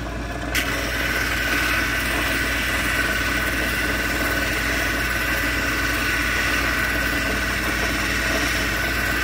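Lapidary polishing wheel running steadily while an agate cabochon is worked, a constant low motor hum with a brighter whirring tone starting just after the beginning.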